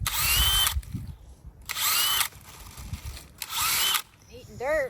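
A power drill whirs in three loud bursts with quiet gaps between them in a garden, and people talk during the pauses.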